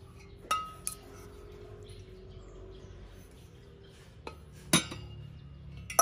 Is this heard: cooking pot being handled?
yes